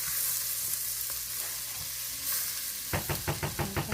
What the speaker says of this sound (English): add in a couple tablespoons of butter. Let that melt around.